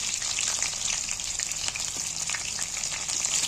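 Egg pieces fry in hot oil in a pan with a steady, crackling sizzle that stays close and even throughout, and no voices are heard.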